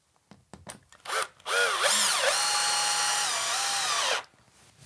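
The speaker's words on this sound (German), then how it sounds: "schraube sie an der Decke" A power screwdriver drives a screw through a light fixture's mounting plate into a ceiling, starting with a few short clicks and brief bursts, then one sustained whirring run whose pitch dips and rises before it stops, close and fairly quiet.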